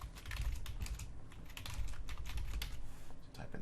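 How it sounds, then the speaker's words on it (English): Typing on a computer keyboard, a quick, continuous patter of light key clicks close by, steady and fairly soft, with no talking over it. "Type in the question."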